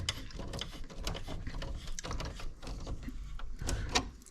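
A fitting being tightened inside a residential main electrical panel during wiring, giving a run of close, rapid metallic clicks and ratcheting scrapes throughout.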